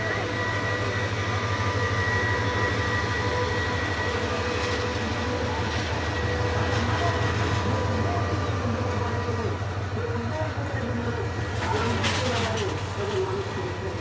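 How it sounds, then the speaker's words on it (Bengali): A train pulls out of a busy junction station with passengers riding on the roof, a loud continuous low rumble and rhythmic wheel clatter, brief squeals and voices in the crowd around it. "আর একটা ট্রেন ছাড়ে যাইতেছে।"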